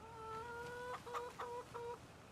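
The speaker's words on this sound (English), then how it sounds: "And we have chickens." Chickens on a farm in the video game Farming Simulator 25 give a few soft, tonal clucks in quick succession over a low background hum.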